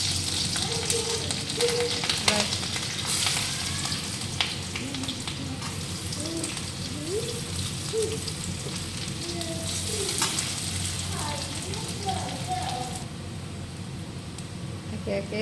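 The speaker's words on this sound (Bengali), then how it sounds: "একে একে সব আস্তে আস্তে ভেজে নেব।" Chopped chillies and vegetables frying in a hot pan, a steady close sizzle with scraping stirs throughout, while a person talks over it.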